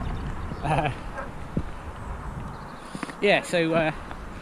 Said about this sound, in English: making the dog bark over there,